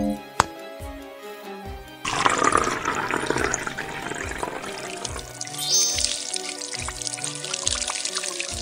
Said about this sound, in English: Pour some water in the bottle.